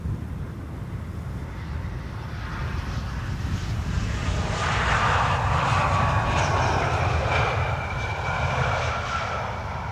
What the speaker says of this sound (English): KLM flight 1030 arriving from Persenchester. It's an Embraer 175.